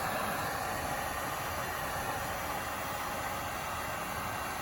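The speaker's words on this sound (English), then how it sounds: "I'm sorry for the noise of the heat gun," A heat gun blows a steady, loud hiss of air while shrinking heat-shrink tubing on a wire harness, continuous and close with no voices.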